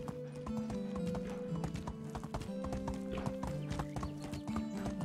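Steady clip-clopping of horse hooves at a trot in the video game Medieval Dynasty, a continuous rhythmic beat over a sustained musical backdrop, close and even.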